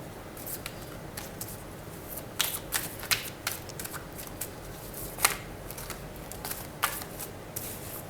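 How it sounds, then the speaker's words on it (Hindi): Tarot cards are shuffled and drawn, giving close, crisp riffling bursts and sharp flicks in an uneven rhythm, with no talking. "कार्ड्स मैं इंट्यूटिवली निकालूंगी"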